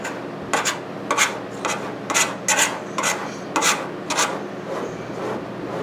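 Repeated rasping strokes of a wood rasp filing body filler on a car's rear quarter panel scrape back and forth at a steady rhythm, about two per second, close and clear with no talking.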